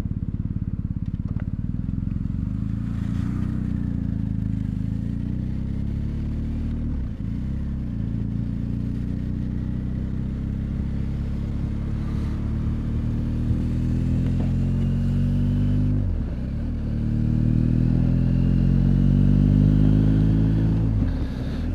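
A BMW R1250GS Adventure HP motorcycle on its first ride in rain mode, the boxer engine droning steadily up close with rising pitch sweeps through gear changes and a louder pull near the end.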